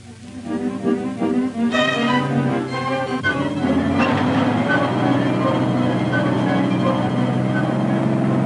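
Loud, steady rumbling of a freight train in a rail yard, continuous throughout, with metallic clanks and sustained tonal whines.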